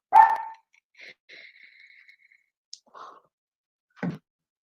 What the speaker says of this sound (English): the neighbor's dog, that fucking little mutt won't shut up